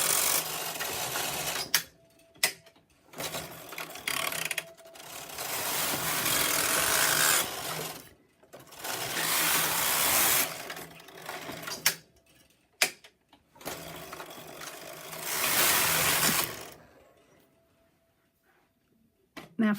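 A double-bed knitting machine carriage working a jacquard with birdseye back slides across the needle beds in long loud rasping passes, several sweeps separated by short pauses and clacks, with no voices.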